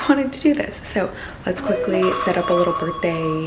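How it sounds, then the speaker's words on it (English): An alarm goes off indoors with a repeating electronic beep pattern, steady pulses over several seconds, sounding clearly while someone talks over it. "That's my alarm."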